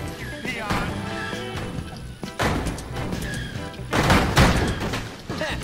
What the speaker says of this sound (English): Can I get the goddamn firecrackers?